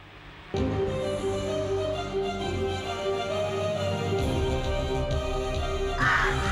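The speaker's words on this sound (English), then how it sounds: "crows invade and terrorize a small Canadian town" Crows caw in a small Canadian town, harsh repeated calls from several birds over a steady background din, loud and fairly close.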